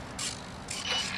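Small servos on a GWS Pico Stick RC plane drive its control surfaces in a faint, close whirring and buzzing of brief mechanical movements, several quick bursts in a row with no talk.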